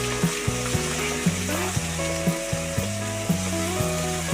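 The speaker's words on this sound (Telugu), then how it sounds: "ఇప్పుడు అల్లం చిల్లిపాయ పేస్ట్ వేసుకున్నాం వేసి ఇట్లా కలిపిస్తాం" Ginger garlic paste fries in hot oil for prawn curry, a constant close sizzle broken by regular rhythmic scrapes of a stirring spoon against the pan, with no speech.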